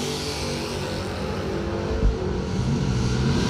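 Drag racing cars launch off the line together, a 1975 Vega against a truck, with loud, steady engine roar filling the clip and swelling slightly near the end.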